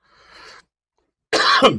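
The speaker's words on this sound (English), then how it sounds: "I don't know why I'm coughing." Two coughs from one person, a faint muffled one followed after a pause by a louder, sharper cough close by.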